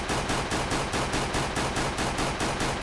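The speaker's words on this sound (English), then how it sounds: "That's automatic fire with a little delay." Rapid automatic gunfire in the game CS2 (Counter-Strike 2), a steady stream of evenly spaced shots at roughly ten per second, loud and close, with no voices.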